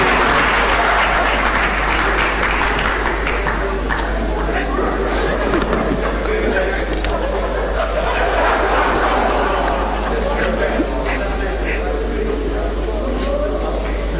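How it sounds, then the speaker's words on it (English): Audience at a Ghana Ministry of Education public event giving a sustained round of applause to welcome a speaker, a loud, dense, continuous clapping with crowd murmur and a low hum underneath throughout. "With a round of applause, let's welcome him."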